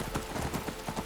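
Horse hooves clip-clop in Skyrim near Ivarstead, a quiet, fairly even run of soft thuds for about a second with nothing else over it.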